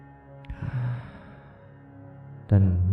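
A long, deep breath drawn in slowly and then released as a soft sigh, close and clear against a quiet background, followed by a sharper intake near the end.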